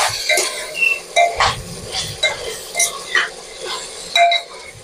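A utensil clinks against a pot while goat meat curry is stirred over a gas flame, with several separate metallic taps and scrapes at an uneven pace against a quiet sizzling background.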